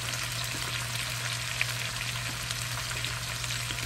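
Stir-fried vegetables sizzle in a pan with a dense, even crackle that stays loud and close throughout, with a low steady hum beneath it.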